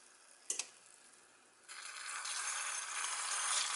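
A homemade spring roll drops into hot oil and starts frying. A sharp clack comes first, then a steady hissing sizzle and spatter rises and stays loud to the end.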